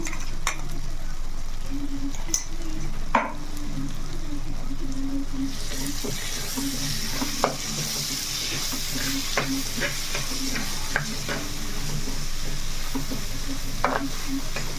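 Onions and eggs fry in a clay pot for a dry fish curry, with a continuous sizzle that grows louder partway through and occasional clicks of a spoon stirring.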